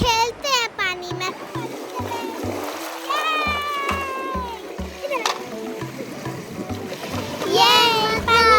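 Children splash and play in cold sea water at a beach, with uneven watery splatter throughout and kids' voices and shrieks on top, the splashing picking up loudly near the end.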